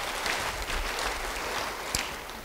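Church congregation applauding during an Indonesian sermon on the Holy Spirit, a steady diffuse patter of clapping filling the room for a couple of seconds with no talk over it.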